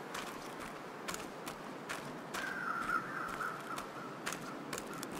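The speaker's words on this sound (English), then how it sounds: "I see the birds." Crows cawing in The Long Dark, a short burst of raspy calls in the middle of the clip over steady outdoor hiss, with intermittent footstep crunches around it.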